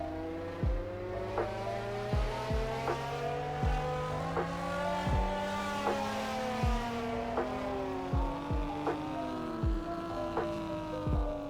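A tuned Jaguar engine in Roblox Fix It Up revs up and down on a dyno in repeated rising sweeps, with sharp gear-shift pops and a loud, close synthetic whine, and no talking.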